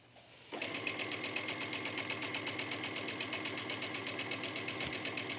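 A sewing machine stitching a trench coat collar starts after a brief pause and runs steadily at a fast, even rhythm, close and clear, with no talking.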